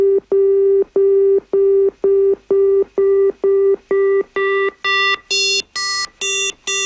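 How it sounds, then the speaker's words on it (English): Synthesized FM tone repeated as a steady run of about thirteen short, evenly spaced beeps, each one growing brighter and buzzier as the modulator level rises, loud and alone. "listen to what happens as you increase the level of a modulator"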